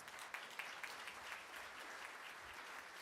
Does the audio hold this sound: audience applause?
yes